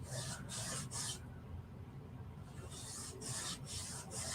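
A hand rubs firmly over a Chalk Couture silk screen stencil, giving rhythmic raspy strokes in two close runs separated by a short lull.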